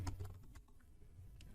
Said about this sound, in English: I was typing too fast